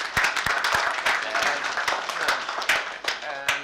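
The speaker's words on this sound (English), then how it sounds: "So please join me in giving them a round of applause" Audience applause for conference panelists at an AFRINIC-19 meeting in Abidjan, a steady wash of many hands clapping with sharp individual claps standing out, close and fairly loud throughout.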